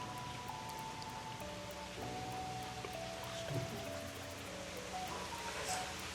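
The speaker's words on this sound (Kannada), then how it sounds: "ಹೊರಗಡೆ ಜೋರು ಮಳೆ ಬರ್ತಾ ಇದೆ." Heavy monsoon rain falls outside a hilltop temple on Kabbaladurga, a soft, steady hiss of drops heard from indoors, faint and continuous with a few tonal hums in the background and no talking.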